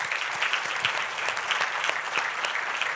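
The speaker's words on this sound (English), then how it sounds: "give her another round of applause." An audience at a violence prevention conference general session gives a steady round of applause, dense continuous clapping of moderate loudness filling the room with no voices over it.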